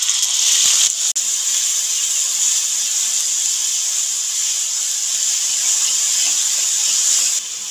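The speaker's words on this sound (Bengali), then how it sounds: "এখন দিয়ে দেবো পেঁয়াজ বাটাটা।" Onion paste hitting hot oil for a chicken gravy gives a loud, steady sizzle that holds evenly for several seconds, close up, with a brief clink near the start and no talking.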